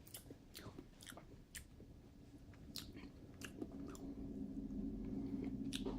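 Someone chews a Carolina Reaper pepper, with wet crunching bites and sharp clicks coming in an irregular rhythm close to the mic while a low hum swells slightly beneath.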